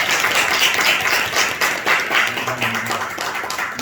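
Steady applause from a church congregation during a New Year's Sunday service, continuous clapping throughout with no voices on top.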